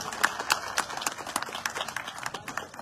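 Crowd applause at an election campaign rally in ward 46 of Basti Gujan, Jalandhar, with scattered claps building into a busy, uneven patter of many hands from a fairly close audience.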